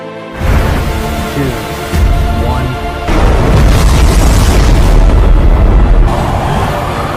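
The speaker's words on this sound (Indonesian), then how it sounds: "begitu bom dijatuhkan, seluruh gua dipenuhi dengan api akibat ledakan" Film scene of a bomb dropped into a cave and erupting into fire, heard as a sudden deep roaring boom followed by further heavy blasts and a sustained thunderous rumble, loud and close with no speech.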